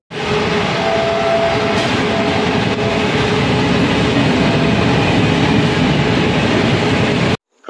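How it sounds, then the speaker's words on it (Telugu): A train at Doddaballapur railway station platform, its steady loud rumble and rolling wagon noise filling the whole stretch without a break, with a faint high whine running through it and no talk. "ప్రస్తుతం మనం దుడ్బల్లాపూర్ రైల్వే స్టేషన్ అయితే రీచ్ అయ్యాం."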